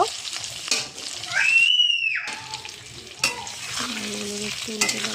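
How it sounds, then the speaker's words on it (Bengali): Steady sizzling of potatoes frying in a pan, with a spatula scraping and stirring, a brief pause, then sizzling resumes with clinks. "আলুটাকে এবার একটু লাল লাল করে সুন্দর করে ভেজে নেব"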